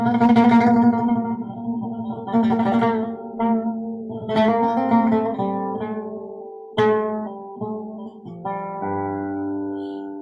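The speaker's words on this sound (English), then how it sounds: "I'm switching between these two tones" Two musical tones alternate back and forth in a pitch-switching demonstration, each a sustained harmonic note with reverberant tails, played alone in a clear, loud sequence.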